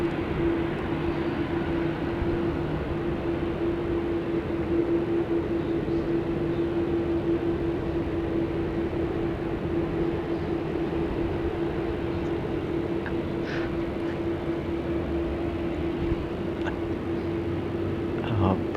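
Continuous jet engine roar from a Qantas Airbus A330-200 departing Sydney Airport for Perth, a steady broadband rumble with a persistent tone, sustained and fairly distant, with faint voices now and then.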